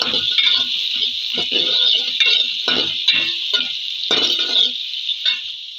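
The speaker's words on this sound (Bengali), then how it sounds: "ভালো করে পেঁয়াজটা আমি কষিয়ে নেবো" Chopped onion sautés in a pan for a beef kalia with potatoes and chana dal, giving a steady close sizzle broken by repeated scraping stirs at a loose, uneven rhythm.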